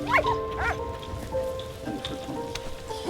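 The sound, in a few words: dog barking in video game Soldats Inconnus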